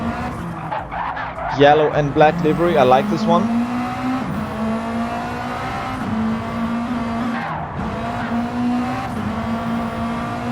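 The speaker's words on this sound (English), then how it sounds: "The cars drifting everywhere." In a racing video game, cars engine-roar and drift with tire squeal and skidding throughout, loud and continuous, while a commentator talks over the action.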